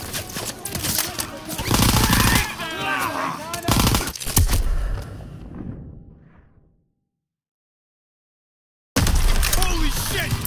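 Gunfire and explosive blasts from the World War II shooter game Call of Duty WWII, loud and dense with shouted voices over it, cutting to silence for a couple of seconds before the battle noise resumes.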